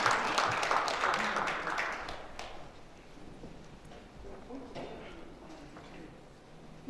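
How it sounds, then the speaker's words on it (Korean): An audience applauds a poet at a morning lecture event, a dense burst of clapping that peaks at the start and thins out over a couple of seconds, giving way to murmuring and low room noise. "다시 한번 정우석 시인님께 큰 박수 부탁드리겠습니다"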